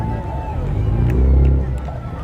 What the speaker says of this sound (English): Now, Lenny, that's a stock vehicle that comes right out of the showroom